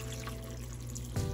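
Water pours steadily into a crockpot over dried black-eyed peas, a continuous close trickling rush that swells slightly in the last moments. No one speaks.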